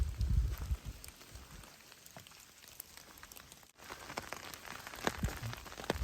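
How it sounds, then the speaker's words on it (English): Steady rain patters on the surroundings along the Appalachian Trail in Virginia, a continuous soft hiss with scattered drips and occasional low rustles, no talking. "The rain keeps coming."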